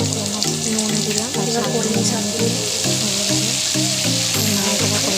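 Chopped onion frying with cumin seeds, dried chilli, crushed garlic and slit green chilli in a home kitchen pan, a steady close sizzle running throughout with faint background tones.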